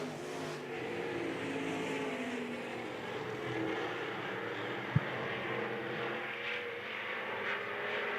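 IMCA stock cars race at RPM Speedway during heats, a steady distant engine drone lasting throughout with one brief sharp click partway.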